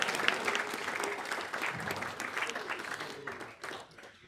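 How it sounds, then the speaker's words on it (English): Wedding guests at the reception speeches break into steady, full-room applause that carries on for several seconds, with scattered voices and cheers mixed into the clapping. "Give yourselves a round of applause."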